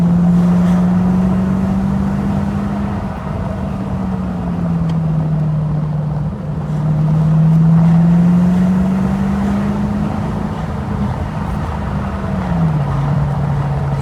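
V8 car engine cruising through the Derbyshire Peak District: a loud, steady low drone with the pitch slowly rising and falling as the car holds speed, no speech.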